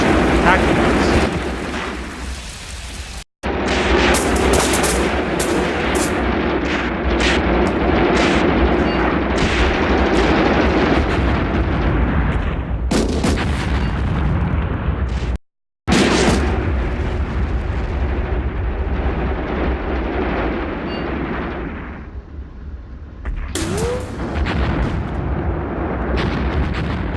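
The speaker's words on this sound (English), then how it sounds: "the artillery falling in our positions up there. It's pretty intense." In the tank warfare game Graviteam Tactics, artillery shells fall and explode in a dense, sustained rumble of booms and crackling blasts, with short breaks, while someone talks over much of it.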